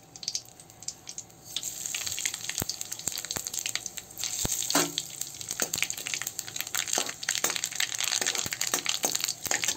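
Dried red chillies, cumin and mustard seeds sizzle in hot oil for sambar, a steady close hiss broken by sharp crackles and pops throughout, with no talking.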